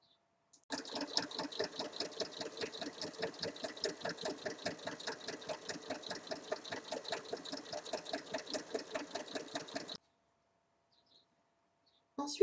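A sewing machine runs continuously for about nine seconds stitching a fabric hem, a rapid, even mechanical clatter close to the microphone, then stops abruptly into near silence.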